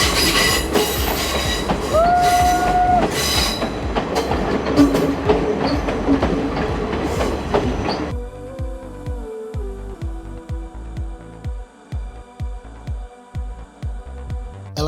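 A passenger train on the Nuwara Eliya to Ella line in Sri Lanka rumbles along the rails with a steady roar and brief wheel squeal, then settles into a clear, rhythmic clickety-clack of wheels over rail joints.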